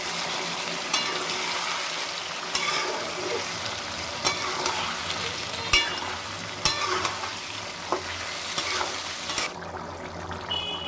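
A little water goes into a hot frying pan during Odia home cooking, bringing a loud continuous sizzle broken by repeated clattering knocks of stirring, with no voices.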